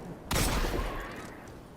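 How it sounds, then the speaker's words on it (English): A single loud burst of gunfire from kinetic weapons in a first-person shooter video game, an abrupt blast that rings out and decays over about a second and a half. "Need to shoot shit with my kinetic guns"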